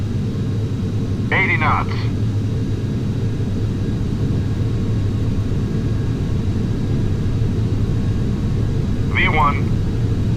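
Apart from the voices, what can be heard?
airplane engines during takeoff roll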